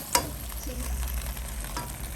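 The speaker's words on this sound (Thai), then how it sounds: "ผัดให้เข้ากันค่ะพอผัดกับหมูสุกก็" Pork stir-frying in a hot pan makes a steady sizzle, with a spatula scraping and stirring through it. The sound is close and continuous and carries no talk.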